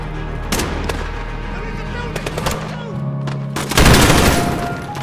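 Bursts of gunfire from a Call of Duty Modern Warfare battle: sharp shots and rattling volleys, one loud heavy burst near the end, with shouted voices mixed in.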